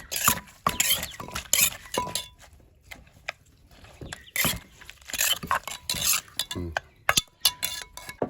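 Seasoning with fish sauce and MSG being stirred together for a Thai rice noodle salad: irregular clinks and scrapes of utensil against a bowl in quick bursts with brief pauses, close up and fairly quiet.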